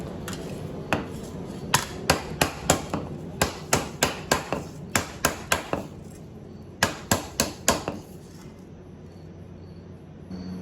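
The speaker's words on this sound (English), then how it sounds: "Just a few taps. Again, we're not smashing, we're not doing anything other than just moving the metal, flattening it back out." Naugahyde mallet tapping sheet metal flat in a workshop, a steady run of light, evenly spaced taps with brief pauses between groups, close and clear.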